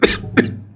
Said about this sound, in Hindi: खांसी चल गई